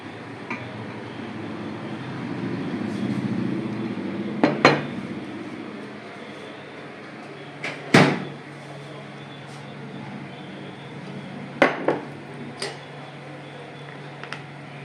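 Basanti pulao is taken out of a microwave oven: a low whir fades, followed by a few sharp, separate clunks and clatters of the door and dish in a quiet kitchen.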